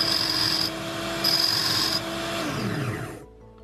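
Drill bit being sharpened in a Parkside PBSG 95 electric sharpener, a steady motor whine with grinding rasp in two bursts, then the motor spinning down to silence.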